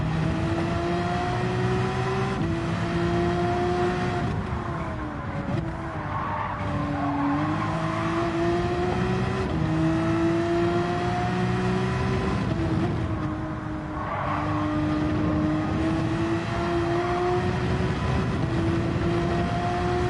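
A race car in Gran Turismo 7 at Suzuka howls through gear changes, its engine tone rising and falling with each shift while tires squeal and skid in corners, loud and continuous with no talk.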